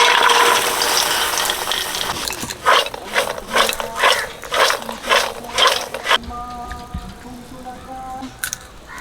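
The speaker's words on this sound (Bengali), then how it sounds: "পপকর্ন তৈরি করেছে, ঢেলে দিচ্ছি" Freshly made popcorn is poured out in a run of rattling, crackling bursts, loud and close, after a steady hiss; the pouring stops and a quieter background with faint tones follows.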